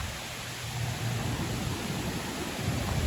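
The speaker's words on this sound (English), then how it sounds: "There is a little waterfall" A small waterfall pours steadily as a broad, even rush of water with a low rumble, continuous and fairly loud, with no voices.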